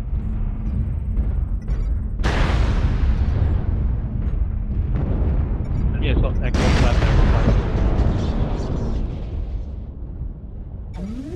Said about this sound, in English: New target acquired. Artillery strike activated.